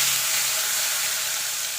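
Potatoes frying in oil with a bay leaf and whole cumin make a steady, close hiss and sizzle that stays even and unbroken throughout.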